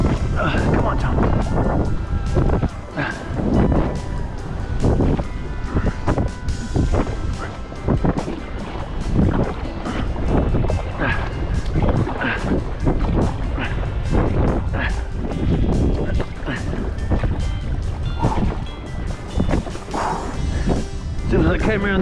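Strong headwind roaring across a canoe on a river paddled against wind and current, loud continuous buffeting noise with splashy bursts throughout, a voice talking over it at times.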